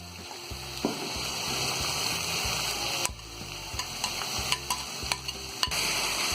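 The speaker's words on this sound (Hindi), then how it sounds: "अब इसमें डाल देंगे हम ये प्याज, इसमें डाल देंगे टमाटर," Chicken sizzling in a kadai as onion and tomato are added and stirred in, a steady close frying hiss broken by repeated clanks and scrapes of the spoon against the pan.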